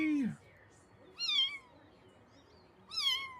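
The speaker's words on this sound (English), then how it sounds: "Cute little kitty." A cat meows three times close by, with short, clear, rising-and-falling calls separated by quiet pauses.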